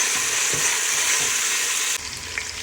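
Food fries in a pan as it is stirred, a steady close sizzle with a few scraping knocks from the stirring, then the hiss drops a little quieter near the end; no talking.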